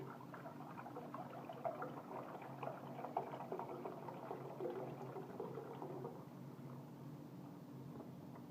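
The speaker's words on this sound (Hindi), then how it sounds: "साथ ही मैं इसमें दूध डाल दूँगी।" Milk poured into a hot pan, a steady close sizzling and bubbling hiss that carries on evenly throughout, at a low level with no talk.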